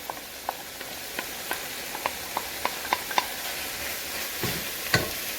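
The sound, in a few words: fresh vegetables tossed into a pan and stirred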